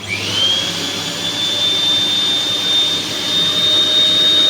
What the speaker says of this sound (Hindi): तो मैंने कर दिए बटन ऑन